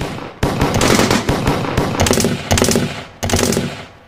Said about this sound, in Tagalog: Nagsimula na nga kaming magpaputok ng mga baril.